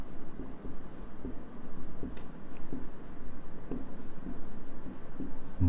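Chalk or marker scratches across a board during a classroom lesson, a run of soft, close strokes and taps in uneven rhythm, with no talking over them.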